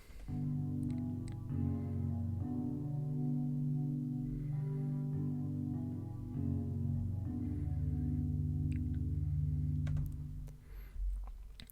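A sustained chord progression plays on a soft keyboard patch, chords shifting every couple of seconds with brighter melody notes added on top, fairly quiet and unaccompanied.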